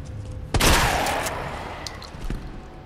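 A single loud gunshot from the video game Resident Evil 2 Remake rings out with a long decaying tail, followed by quieter clicks and game sounds, no talk.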